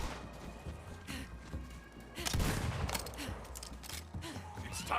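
Gunfire in the shooter game Borderlands 3 comes as scattered, fairly quiet bursts and volleys of shots, with a louder cluster midway and faint talking at times.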